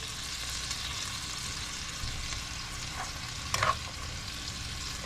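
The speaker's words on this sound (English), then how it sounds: "we're just gonna break it up" Meat fries in a pan with onions, a steady, moderate sizzle under soft stirring and a brief louder scrape as a utensil breaks up the meat.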